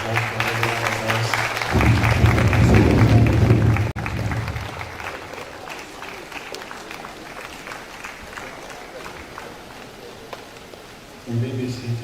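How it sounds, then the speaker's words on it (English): A crowd at a university valedictory lecture applauds warmly, a steady wash of clapping that starts loud and thins out. Voices and a low humming tone are heard alongside it. "A warm round of applause for everyone else."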